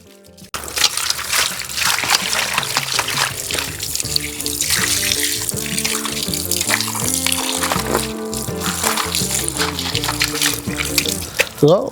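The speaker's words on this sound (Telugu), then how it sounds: "వాటర్ పోయండి" Water pours and splashes steadily for several seconds onto fish being washed, close and fairly loud, with music playing underneath.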